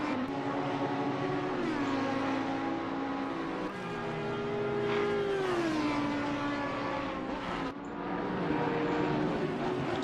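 GT3 race cars roar around Misano in the Assetto Corsa Competizione sim, including a Bentley, with several engines droning and shifting pitch as the pack runs close together and no commentary is heard.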